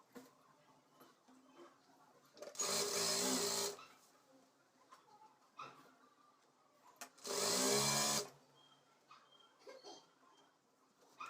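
A sewing machine stitches a chudi top in two short, loud whirring bursts about four seconds apart, with quiet handling noises in between.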